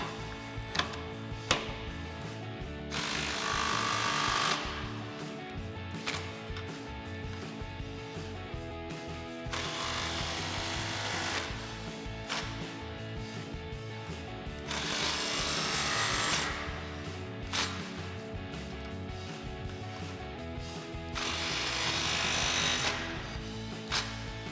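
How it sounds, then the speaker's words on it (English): An impact wrench fitted with a 15 mm socket tightens band and exhaust clamps on a 2015-2017 Mustang GT cat-back exhaust, firing in three loud rattling bursts of a couple of seconds each, separated by quieter handling noise. "So we'll grab our 15 mil socket on our impact, start tightening down all of our clamps"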